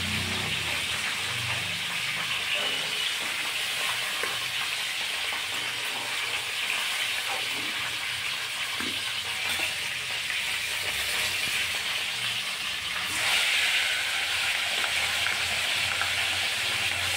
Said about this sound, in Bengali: তেল দিয়ে দিই, মাছগুলো উল্টে দিলাম।